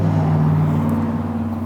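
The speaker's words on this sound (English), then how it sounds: "Sorry about the traffic." Road traffic drifts in through an open window of a workroom where Bondo is being applied to wood, a continuous low droning hum with a faint steady tone and no voices.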